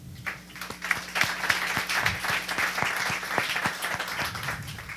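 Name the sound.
audience applause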